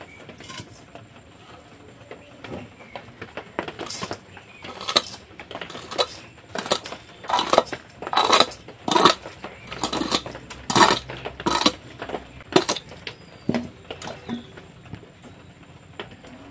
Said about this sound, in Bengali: তো 5-7 মিনিট পর এবার আমি ঢাকাটা তুলে নিচ্ছি। তো উপর থেকে বালিটা একটু নামিয়ে নেব।